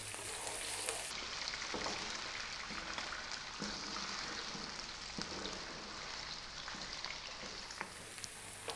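Onion frying with fresh curry leaves in a pan over medium-high heat, a steady crackling sizzle with occasional soft knocks of stirring throughout.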